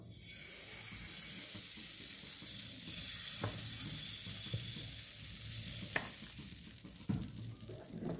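Patisapta batter sizzles steadily on a hot non-stick tawa, with a soft continuous frying hiss and a few light scraping clicks as the batter is spread around.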